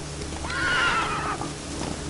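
Roach the horse from The Witcher 3: Wild Hunt lets out a single loud, close neigh that rises and wavers for about a second over steady game ambience, with faint hoofbeats around it.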